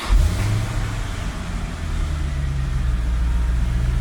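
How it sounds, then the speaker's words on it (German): A 1990 Chevrolet Corvette C4 with a six-speed manual turning over on the starter and catching, then settling into a steady, deep, rumbling idle heard up close. "Und dann werde ich mal den Anlasser betätigen."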